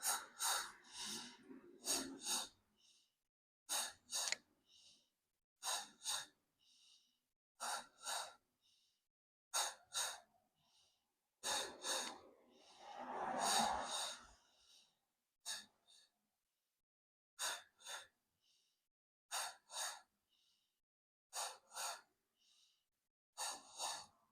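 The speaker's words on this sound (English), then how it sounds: "Deep inhale through the nose." Repeated deep nasal breaths during a postpartum Pilates workout, with inhales and exhales coming in rhythmic bursts close to the microphone and separated by short pauses of near silence.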